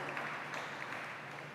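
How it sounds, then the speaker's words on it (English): A short round of applause from an audience at a university community service awards expo, steady dense clapping throughout with a little speech in the background. "Yes, please give a round of applause."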